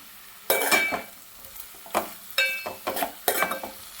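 Curry being fried and stirred in a pan: bursts of sizzling and scraping as a spoon moves the food, separated by short quieter gaps, close and fairly loud.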